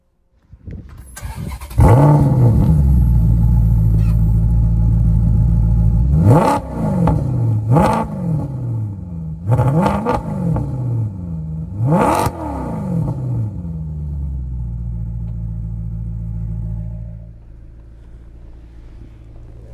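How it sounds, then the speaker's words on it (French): A Maserati GranTurismo S with a Ferrari-built 4.7-litre engine cranks and fires loudly up close, then settles into a deep idle broken by four sharp, rising revs before it quiets near the end. "Là, il faut tout de suite la démarrer, il faut entendre le bruit."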